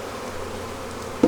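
Honey bees buzz around their new hive in a beekeeping yard, a close, steady droning hum with a brief louder burst near the end, no talk.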